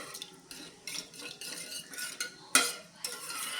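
Daliya being stirred in a pot of water with a spoon, several close scraping clinks of utensil against metal, a sharper knock near the end, no talk.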